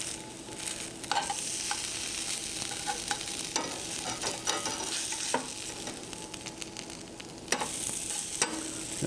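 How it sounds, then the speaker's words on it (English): Cornpone sears in a hot pan with a steady, close sizzle and occasional scraping taps from a utensil. No one speaks. "I want this to sear on one side."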